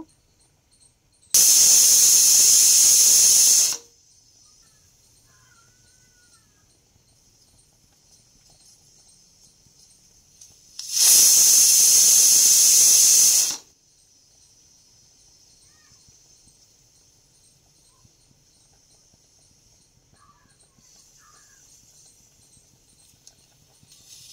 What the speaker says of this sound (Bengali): প্রেসার কুকারে এদিকে 3 থেকে 4টা সিটি দিলেই কিন্তু ওল আর আলু একদম ভালো করে সেদ্ধ হয়ে যাবে